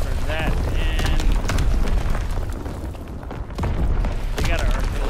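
Artillery strike explosions in a WWII capture-the-flag video game, heavy booms and thuds rolling through the clip at steady loudness, with a voice talking over them.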